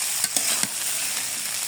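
Banana stem and egg sizzle steadily in a frying pan, a soft continuous hiss broken by a few quick scraping stirs near the start, with no talking.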